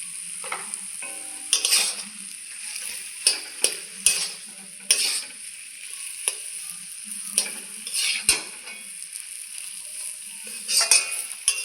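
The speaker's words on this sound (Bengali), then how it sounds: "ভালো করে সবগুলো মিশিয়ে নেব" Spices such as turmeric, cumin and chili powder stirred into a frying potato mixture, with a utensil scraping and clinking against the pan in repeated strokes over a soft continuous sizzle.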